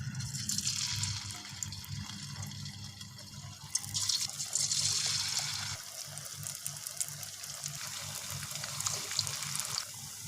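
Potato fries frying in hot oil over medium heat for homemade masala chips, giving a steady, loud, bubbling sizzle that hisses on without a break and with no voices.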